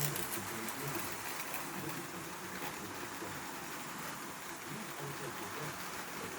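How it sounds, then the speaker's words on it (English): A model train track-cleaning boxcar with two spinning motors inside, coupled behind the locomotives, gives a steady, fairly quiet whirring and rattling hiss that runs evenly throughout without a break. "most of that noise is coming from the boxcars coupled directly behind the locomotives. That's a track clean boxcar with two motors inside of it."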